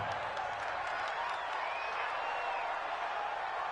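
Steady crowd noise from a football video game broadcast in a stadium, a continuous even roar of fans with faint applause, moderately loud and unbroken throughout.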